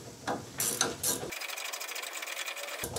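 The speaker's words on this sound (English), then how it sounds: "Now we just got to tighten them up. I got the ratcheting wrench for the top" A ratcheting wrench tightens front suspension nuts on a 2007–2021 Chevrolet Silverado during a leveling kit install. A few slow clicks give way to a fast, steady run of ticking close by.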